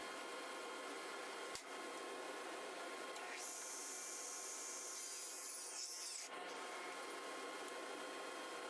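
A table saw rips walnut into 2 by 2 strips, a faint, steady motor hum broken by a few seconds of higher, rasping cutting noise in the middle as the blade passes through the wood.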